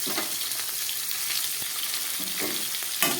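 Capsicum sizzles in a hot pan for a vegetarian curry, a steady close frying hiss with occasional stirring scrapes and soft pops throughout.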